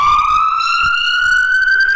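Cartoon ambulance siren sound effect, a loud continuous wailing tone that rises steadily in pitch over two seconds, close and alone.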